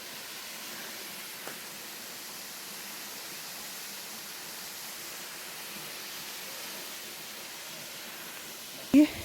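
Njandirrikkey waterfall in a low-water season gives a faint, steady wash of falling water heard from a distance, an even hiss throughout with one brief knock near the end.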